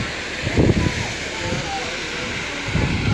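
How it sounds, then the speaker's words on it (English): Water leaking into a stone canal lock gives a steady rushing, splashing wash that runs throughout, with brief gusts of wind noise and bumps from handling nearby. "This is where there's a bit of a leak where the water's coming in."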